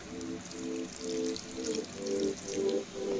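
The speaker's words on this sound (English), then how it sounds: "Got a little water we're gonna pour in there." Water pours into a cooking pot in a short, gentle stream, a splashing trickle that comes in a few brief bursts, close by with quiet room noise around it.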